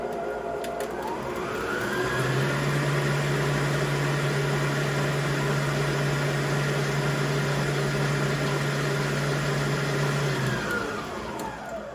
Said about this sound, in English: my butter is in the bowl. I'm whipping it up a little bit.